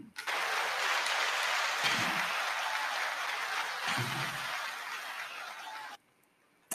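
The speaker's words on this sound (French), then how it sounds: "Je m'applaudis, je m'applaudis, je m'applaudis." A man claps his own hands in a dense, steady run of applause for about six seconds, loud and close, with a couple of low thumps along the way, then it stops abruptly.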